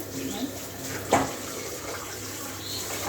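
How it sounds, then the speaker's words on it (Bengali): Dishes being washed under a running kitchen tap give a steady hiss of flowing water with a sharp clink of crockery partway through. "কটা বাসন আছে মেজে নেব"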